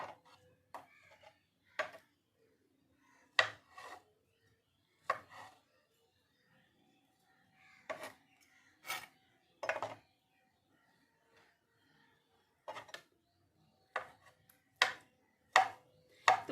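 Knife chopping potatoes into small pieces on a board, sharp isolated knocks in irregular bursts separated by quiet gaps, close and clear; a chicken faintly clucks in the background.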